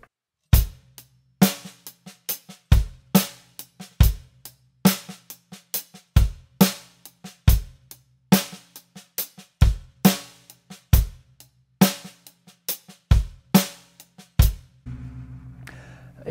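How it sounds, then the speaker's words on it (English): Drum groove with a double-stroke ghost-note roll: steady sharp hits with soft quick ghost strokes between them, repeating evenly, and a brief rumbling fill at the end, no talking. "The drummer is also playing that little roll, but it's really a play double stroke."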